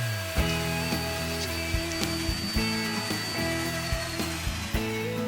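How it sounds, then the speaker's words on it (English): Router fitted with a bearing-guided straight bit cuts around a template on an end grain wooden cutting board, a steady loud motor whine broken by repeated sharp bites and changes in pitch as it feeds through the wood. "using a straight router bit with a ball bearing to follow the template, I route out the shape of the boards"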